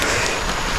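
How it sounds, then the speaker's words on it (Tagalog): Heavy rain pours in a steady, dense hiss, loud and close, with no talk over it. "Grabe yung ulan nito."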